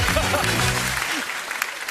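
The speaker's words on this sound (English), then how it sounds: "ladies and gentlemen, big round of applause" A studio audience at a comedy entertainment show bursts into loud applause, thick and continuous at first and then easing slightly as it carries on.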